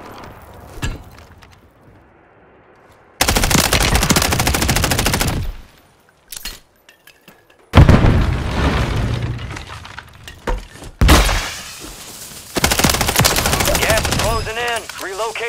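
Loud bursts of rapid gunfire and explosions from a video game airstrike come in several blocks separated by short quiet gaps, with booming impacts and debris crackle, and a synthetic voice is heard at the end.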